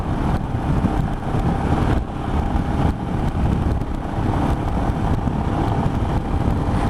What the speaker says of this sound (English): It's quite a noisy engine too.